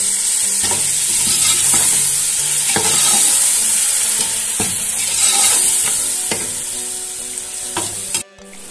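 Tomato masala for palao sizzles and fries in a pot while a spoon scrapes and stirs in regular strokes, a loud, continuous close-up crackle with no talking.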